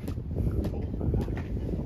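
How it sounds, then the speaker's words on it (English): Strong wind gusting at night around a roadside spot, a steady loud rush buffeting the microphone with continuous low rumble and brief bursts. "Oh, very windy."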